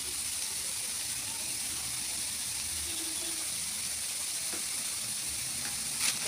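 Minced meat fries with black pepper in a pan for béchamel pasta, giving a constant faint hissing sizzle close by with no talking.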